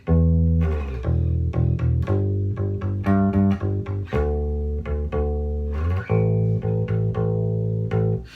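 A slow electric bass riff, deep sustained low root notes plucked one after another in a steady, unhurried pattern, played close and clear.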